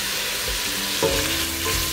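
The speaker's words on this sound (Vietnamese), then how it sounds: "Mình xào sơ cà chua lên như vậy cho nó thơm" Tomatoes with Korean chili powder being stir-fried in a pan for bún riêu, a steady close sizzle with light scraping stirs and a soft clack midway.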